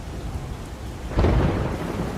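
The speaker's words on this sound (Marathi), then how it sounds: "विजांचा कडकडाट सुरू झाला." Thunder in a children's animated story about the first monsoon rain: a loud crack and rolling rumble breaks in at about one second, over a soft hiss of rain and wind.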